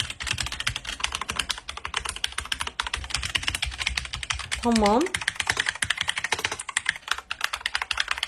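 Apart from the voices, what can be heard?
typing on computer keyboards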